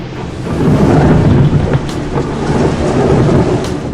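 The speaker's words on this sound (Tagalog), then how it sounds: "Pag-ulan ng higanting tipak ng yelo." Hailstorm pelting down giant hailstones with thunder, a loud dense roar of impacts and rumbling that swells and stays steady throughout, with no voices.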